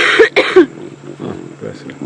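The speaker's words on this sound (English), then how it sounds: "the lingering cough has stuck with me for a little longer than expected" A person coughs twice sharply and close to the microphone during a live safari drive broadcast, followed by quiet talk.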